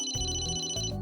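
An electronic cell phone ringtone in Emio – The Famicom Detective Club, a short synthetic melodic ring with bright repeating tones, clear and steady for about a second.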